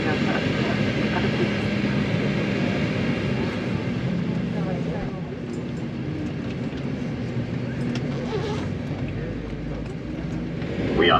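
Jet engines of an Austrian Airlines Embraer 195 on a Vienna to Thessaloniki flight hum before takeoff as a steady low cabin roar, with a voice speaking over it.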